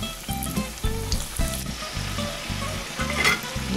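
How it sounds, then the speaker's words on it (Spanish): Oil sizzles and crackles steadily as eggplant nuggets fry in a pan, close and busy, with a few light clinks along the way. "Los escurrimos bien y seguimos friendo."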